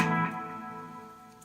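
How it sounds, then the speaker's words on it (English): Tape echo setting on a Flashback guitar pedal: a single sustained guitar note whose repeats smear and fade away over about a second and a half. "I like the tape echo on the Flashback."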